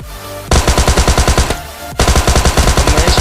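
Video game gunfire rattles out in two loud, rapid automatic bursts, the first lasting about a second and the second nearly a second and a half, split by a short gap. No voice can be heard.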